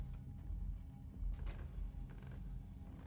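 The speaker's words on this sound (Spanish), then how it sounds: "Y tú déjate rechinar el suelo." Wooden floorboards creak in the Little Nightmares video game, a drawn-out low groaning strain with a mechanical edge and brief louder swells, close and steady throughout with no talking.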